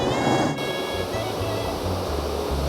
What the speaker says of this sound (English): West Warwick is defined by the Patuxent River, which sits right behind me.